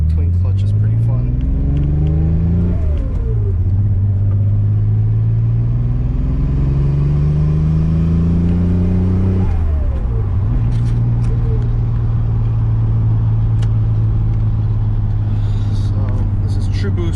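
A 1995 Mitsubishi 3000GT VR-4 with 16T turbos and an AEM engine management system accelerates hard on wastegate boost, its engine note climbing through several gears with brief drops at each shift, loud from inside the cabin with speech over it.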